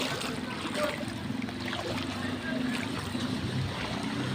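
Water sloshes and churns steadily as a vehicle pushes through knee-deep flood water in Cansig-id, with a low engine rumble and a voice talking over it.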